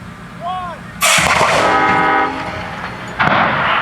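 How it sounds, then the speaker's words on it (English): Pumpkin cannons at an outdoor Punkin Chunkin festival at Bald Eagle State Park: a loud, sudden blast followed by a long roaring rush of air, then a second burst a couple of seconds later. "here's the grand finale, mass pumpkin firing. Gonna fire tons and tons of pumpkins."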